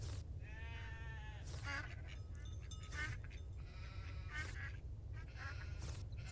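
Ducks quacking and sheep bleating in the farming game Farm Together 2, a run of short nasal calls repeating over a steady low ambient hum, fairly close and moderately loud.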